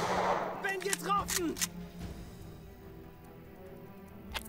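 Gunshot in a WW2 turn-based tactics game: a sharp report near the start followed by short ringing tonal effects, then a quiet tail.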